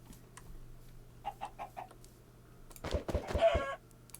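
A chicken in the video game Minecraft gives a run of four short, evenly spaced clucks, followed by a louder burst of sound, all over a faint steady background hum.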